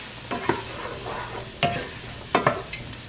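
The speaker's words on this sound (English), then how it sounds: "I'm gonna stir this real fast. I have this between medium and low heat" Beef and broccoli fry over medium-low heat in a pan as they are stirred quickly, with a constant soft sizzle broken by several sharp utensil scrapes and clacks.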